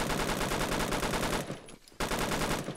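G3 battle rifle firing in Roblox Phantom Forces: rapid, loud, close bursts of shots in a dense continuous rhythm, broken by a half-second gap before the firing resumes just as fast.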